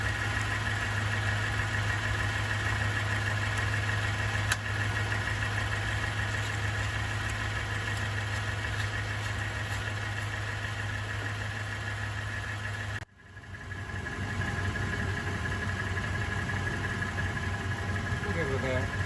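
A Toyota Tundra engine idles steadily as its transmission warms up, a constant low hum that dips abruptly near the end before settling back to the same drone.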